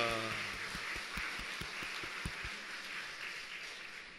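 Congregation applause at a Korean church dawn prayer service, a broad wash of clapping that fades out over a few seconds, with low thumps early on and a voice briefly heard at the start.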